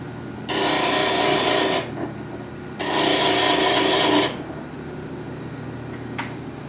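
A wood-turning tool is pressed against a grinder in two long, loud rasping passes, each about one and a half seconds, separated by a brief pause, with a quieter hum between and after.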